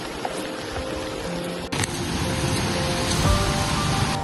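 Steady, dense rain pours down continuously at Kalavantin Durg fort, a loud hiss of drops hitting surfaces with no gaps.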